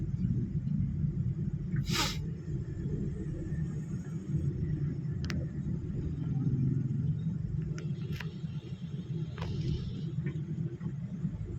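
Road traffic produces a steady low rumble of engines that runs throughout, with a few faint clicks and knocks on top and no voices.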